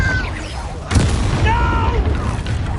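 A Confringo blasting curse goes off in a Harry Potter video game, a single booming explosion mixed with a shouted voice and game sounds.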